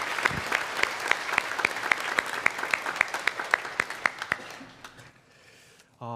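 A church congregation applauds steadily with sharp, regular claps standing out, then the clapping fades away into quiet near the end.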